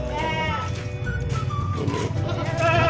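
Goats in a pen on a fattening farm bleat several times, loud and close, over steady low barn noise, with some voices in the background.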